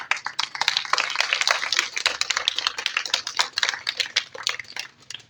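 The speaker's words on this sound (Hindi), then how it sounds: "तालियां।" An audience at a school cadet speech competition in Pakistan claps in a dense, continuous burst of applause that stays fairly loud throughout.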